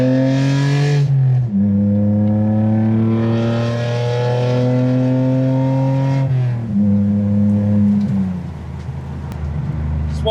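A car accelerates onto a highway, its engine rising and shifting through gears with strong harmonic drones, loud and close from inside the vehicle.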